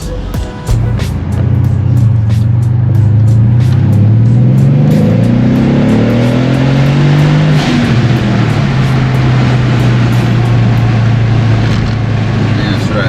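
A Renntech-tuned Mercedes-AMG S63 on new Rotiform LVS wheels drives along, its engine a steady, loud low drone heard from inside the cabin with a brief rise in pitch, while people talk over it.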